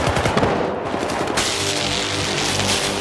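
Beam gun firing in the video game Syndicate during co-op play: loud, rapid bursts of crackling energy fire, a sustained stuttering barrage with a brief lull before resuming more steadily.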